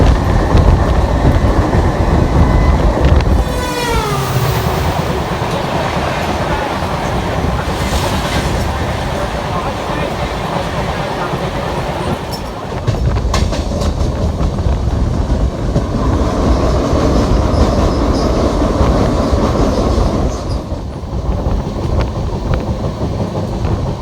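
Riding onboard the Kamrup Express in India near Shamuktala Road junction, there is a loud, constant rumble and rattle of wheels on rails with rhythmic clacking and wind buffeting the microphone, and no talking.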